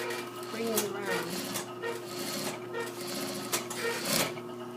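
A sewing machine runs steadily while stitching a curved seam, its continuous whirring hum running throughout with faint voice-like sounds mixed in.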